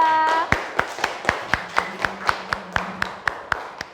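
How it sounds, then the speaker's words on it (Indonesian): Rhythmic group clapping from students in a classroom, a steady series of about a dozen evenly spaced claps, fairly close and moderately loud, with a brief voice at the very start. "Yuk, beri tepuk tangan untuk kelompok 2."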